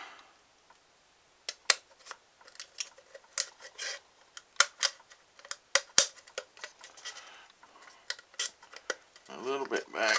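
A plastic model kit part for a Phoenix Models Genesis being trimmed by hand with a sharp knife, a quiet series of irregular, close-up clicks, snips and scraping rubs, with a rougher scraping run near the end.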